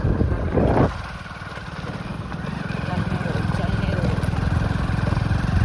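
A motorcycle engine idles and revs with a steady, rumbling low drone, close by, continuing throughout after a brief louder burst at the start.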